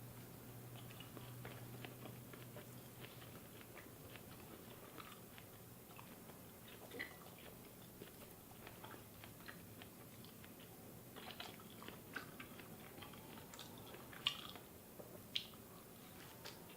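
Raw steak being bitten and chewed near the mouth: faint, irregular wet squishing and soft crunching bites over a low background hum, without talk.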